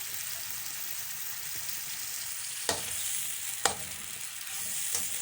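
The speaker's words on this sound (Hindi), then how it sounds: "अब हम अपने जो प्याज है उसको ऐड करेंगे और इसको उतनी देर तक फ्राई करेंगे जब तक इसका कलर जो है हल्का गोल्डन हो जाएगा" Chopped onions frying in oil over medium heat until lightly golden, giving a steady close hiss with a few sharp scraping stirs breaking through.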